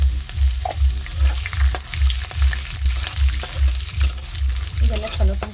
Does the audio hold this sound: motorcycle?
no